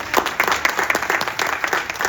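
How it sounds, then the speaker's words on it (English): Audience applause at a women's conference, a steady wash of many hands clapping at once, loud and fairly close, with no talk over it. "Give you guys a hand clap for being just women in this room."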